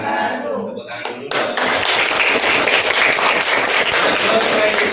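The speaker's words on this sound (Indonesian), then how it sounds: "Tepuk tangan dulu" Classroom audience clapping during a teacher-training practice lesson; a voice is heard briefly, then steady, lively clapping from many people takes over and continues evenly.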